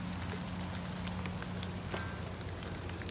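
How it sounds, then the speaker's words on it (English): Rain falls outside near a riverside spot on a rainy day, a steady soft hiss of drops with scattered faint patters throughout. "And it's rainy."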